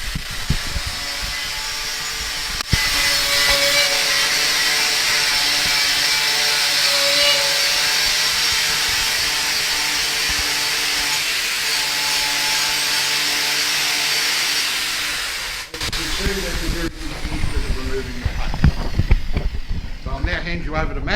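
Abrasive power tool grinding paint off square steel tubing during mild steel weld preparation: a loud, steady high-pitched whine that runs unbroken for about thirteen seconds, then stops abruptly, followed by rougher, uneven noise.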